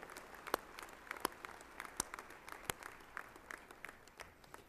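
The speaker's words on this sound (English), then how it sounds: "That deserves a round of applause." A college audience gives faint, thin applause, with scattered individual claps popping out of a soft, distant patter that fades toward the end.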